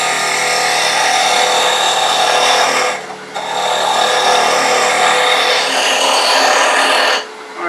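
A wood lathe spins a wand shaft while a tool tapers it, giving a steady, close, dry rasping scrape that pauses briefly partway through and again near the end.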